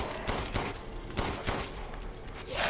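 Shotgun blasts in Resident Evil Village fire in a steady rhythm, several sharp booms about half a second apart, fairly close and loud, with little talk.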